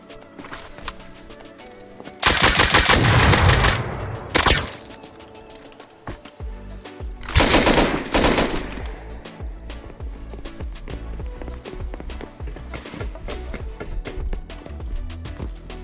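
Gunfire in the survival game Rust, from a Bolt-action rifle and a revolver: two long, loud bursts of sharp shots stand out amid scattered clattering and thumping.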